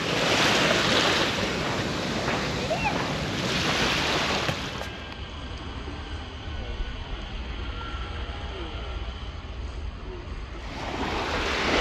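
Ocean waves wash onto an Andaman Sea beach on the Langkawi waterfront, making soft, broad surf rushes that rise, fade to a quieter lull mid-clip, then build again, with some wind noise and no talking.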